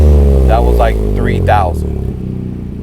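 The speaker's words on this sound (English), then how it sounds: "Now I'm gonna do some revs." A Toyota GR Corolla fitted with an SXTH Element dual exhaust revs from a low idle, its deep engine drone steady beneath someone talking close by.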